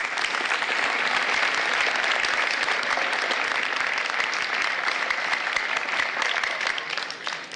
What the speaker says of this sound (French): Je pense qu'on peut les applaudir tout de suite